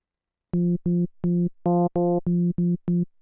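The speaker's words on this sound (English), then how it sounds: "I'm going to FM from B and make sure this is another sine wave." Synthesizer patch built from frequency-modulated sine waves, heard as eight short, loud tonal notes in a quick pulsing rhythm, each a steady buzzy pitch with a bright attack, with no one talking.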